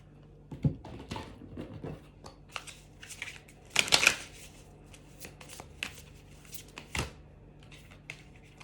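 Tarot deck being shuffled and cards pulled: quick papery riffles and slaps, a burst of dense shuffling in the middle, then a few single card flicks, close and fairly quiet.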